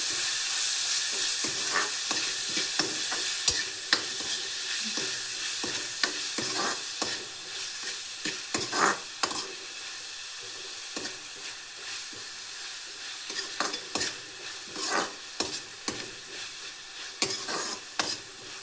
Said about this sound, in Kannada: ಇದಕ್ಕೆ ಶುಂಠಿ ಬೆಳ್ಳುಳ್ಳಿ ಪೇಸ್ಟ್ ಹಾಕ್ತಿದ್ದೀನಿ, ಹಾಗೆ ಈರುಳ್ಳಿ ಹಾಕ್ತಿದ್ದೀನಿ. ಚೆನ್ನಾಗಿ ಒಂದ್ಸಲ ಮಿಕ್ಸ್ ಮಾಡ್ಕೊಳ್ಳಿ